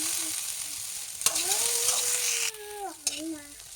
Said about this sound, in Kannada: ಎಣ್ಣೆಯಲ್ಲಿ ಬಾಳಿಸಿಕೊಂಡು ಬರೋಣ.